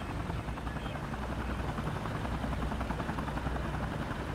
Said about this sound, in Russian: Вижу вертолеты «Гепард».